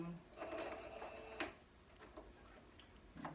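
A sewing machine back stitches the ends of half square triangle quilt blocks, giving a short quiet burst of mechanical whirring and ticking with a sharp click partway through, low-level and fairly close.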